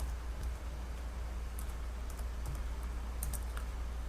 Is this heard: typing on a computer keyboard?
yes